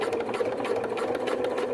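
A sewing machine back stitches cami binding in a steady, close, rapid mechanical whirr that does not pause. No one speaks.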